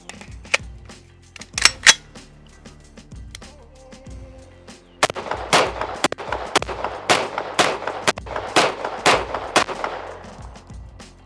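A registered short-barreled rifle fitted with a stock fires outdoors, a few sharp isolated shots at first, then a quicker string of loud cracks with brief gaps between them.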